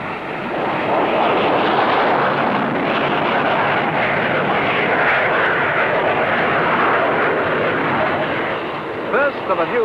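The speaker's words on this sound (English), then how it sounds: "the P-1127, powered by a vector thrust turbofan engine, shows its paces" A Hawker P.1127 jet with a vectored-thrust turbofan engine roars loudly and without a break at a 1960s Farnborough airshow, a broad rushing engine noise that fills the whole clip.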